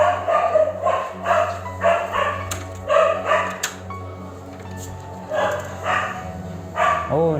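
A dog barks in repeated bursts, roughly one short volley each second, fairly close and loud against a steady low hum, with a faint whimper near the end.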